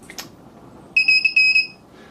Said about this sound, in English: rather nasty sounding buzzer connected over here, and again through the code, just turning on when this proximity sensor triggers